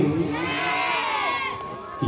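A crowd at a devotional Ramlila performance about Hanuman and Makardhwaj shouts a chant in unison, a loud sustained collective cry with cheering that tapers off after a couple of seconds.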